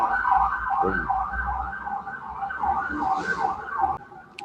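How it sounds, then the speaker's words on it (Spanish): An emergency siren passes by outside, wailing in a steady rising and falling pattern at moderate volume, heard from indoors over low background rumble. "Qué raro que pase una sirena por acá"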